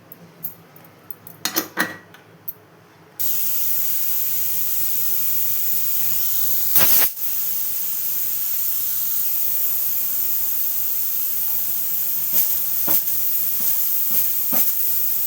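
A pressure cooker cooking lentils on a stove lets out a loud, continuous steam whistle and hiss after a few opening clatters, with short metallic clicks and bursts breaking through it.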